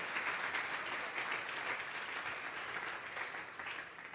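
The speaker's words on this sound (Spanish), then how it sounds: "Vamos a darle una ofrenda de palmas a Dios en este tiempo." A congregation at a Sunday church service claps continuously, a dense, steady wash of applause filling the room for several seconds.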